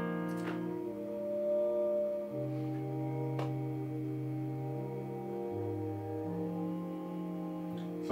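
A Rhodes-style electric piano plays slow sustained chords with a soft bass line, mellow and steady throughout, with no voices over it.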